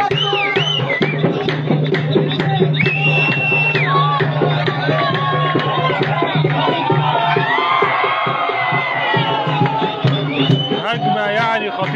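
Alexandria supporters at an Egypt national team football match chant and drum in celebration of an equaliser, a loud, dense roar of many voices in rhythmic chants with cheering throughout, close and sustained.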